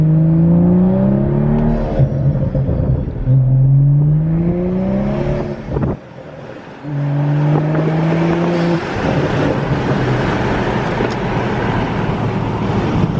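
A BMW F30 fitted with a CTS turbo charge pipe accelerates hard, its engine note climbing in repeated rising sweeps through the gears, with a brief dip between shifts and heavy rushing wind noise building up close inside the cabin.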